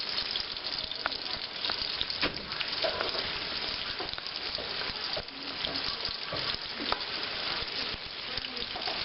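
Chopped tortilla pieces fry in a pan at medium heat, producing a steady, dense sizzle with light crackling pops throughout and no voices.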